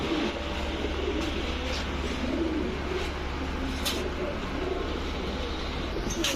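Chinese Rampuri pigeons, a male and a female, coo softly and continuously over a steady background hum, with occasional faint chirps and no speech.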